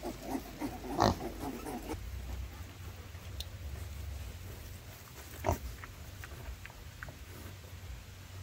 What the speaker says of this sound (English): Come on, little Big Pigs.